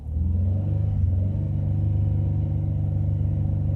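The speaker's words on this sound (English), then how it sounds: "Sometimes if I gently ease on the gas," A 2000 Chevrolet Impala engine with a hard-start problem rumbles and revs gently under light throttle, a steady, close, low-pitched drone without speech.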